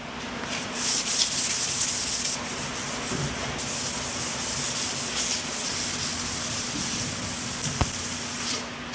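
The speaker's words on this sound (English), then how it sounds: "I am just about to do the final sanding on the exterior here with some 400 grit" Steady rubbing scrape of 400 grit sandpaper worked by hand across the exterior bodywork of a Thunderbird being prepped for paint, continuous and close with slight swells in stroke pressure, no voices.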